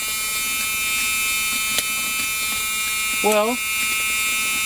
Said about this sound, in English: It wants my seatbelt fastened.